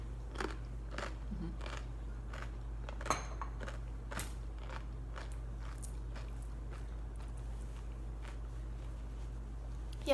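Unsalted crackers crunch in a series of sharp, irregular bites and crackles over a steady low hum, each crunch brief and close, spread across ten seconds with no talking.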